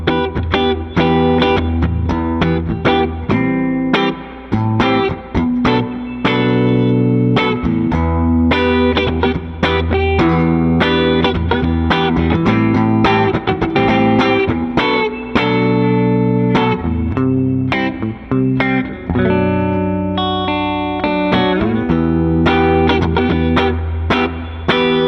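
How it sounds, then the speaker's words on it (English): A 1967 Gibson Trini Lopez Standard electric guitar strummed and picked in steady phrases, switching between its three pickup positions, tone shifting between brighter and warmer, with slight effects coloring the notes. "There you have the three tones on that guitar"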